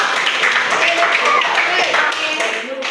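Classroom hand clapping after a correct answer in a geography quiz lesson, a dense, continuous burst of clapping lasting a few seconds with voices mixed in.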